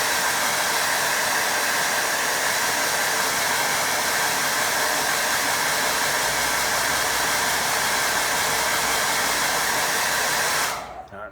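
A hair dryer blows on wet watercolour paint with a steady, loud whoosh for about eleven seconds before switching off abruptly.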